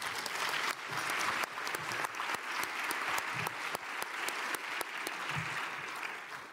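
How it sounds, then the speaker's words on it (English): A conference audience applauds a speaker at the ZeroCon23 opening ceremony, with steady, moderately distant clapping that continues for several seconds with no talk over it. "So huge round of applause, please, for Bernard."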